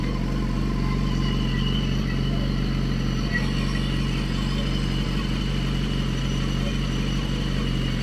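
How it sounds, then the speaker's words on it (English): A BMW HP4 motorcycle fitted with an Akrapovic exhaust idles steadily, a low continuous engine rumble at close range with no change in pitch throughout. "the Akrapovic on the HP4 reads around 89 decibels at idling"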